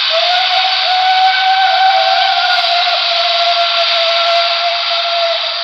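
Long, steady steam whistle from a BLI PRR L1s diecast hybrid model locomotive, a sustained multi-tone chord blowing loud and continuous for several seconds with no talking.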